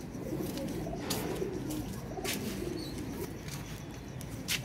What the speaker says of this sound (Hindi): देखें सलारे कबूतर है